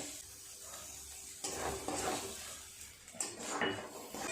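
Lote fish chop filling being stirred in a pan until dry, with soft scraping and clinks of a spoon against metal, a faint sizzle underneath, and a few louder bursts of stirring toward the end.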